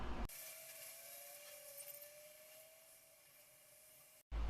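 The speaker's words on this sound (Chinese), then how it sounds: "把上面的铜皮给切成一道沟，让4个独立的小板、独立的焊点进行绝缘" A small cutting tool scores a groove through the copper foil of a circuit board, a steady thin scraping hiss lasting several seconds, close and fairly quiet, ending abruptly.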